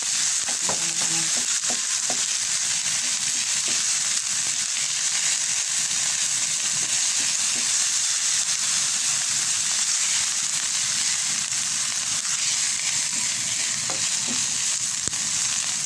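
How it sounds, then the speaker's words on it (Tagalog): Garlic browning in a pan with red onion and a little salt, giving a loud, continuous close-up sizzle and crackle with occasional stirring clicks and no talk. "Nag-brown na ang ating bawang guys."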